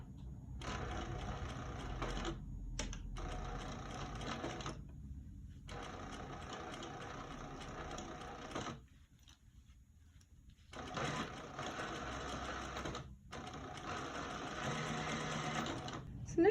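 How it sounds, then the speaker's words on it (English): Sewing machine top stitching a lined zip pouch, running in several steady bursts of a few seconds each with short pauses between, close and clear, with a voice talking over parts of it. "I'm going to do the same exact thing and do a 1/4 inch top stitch."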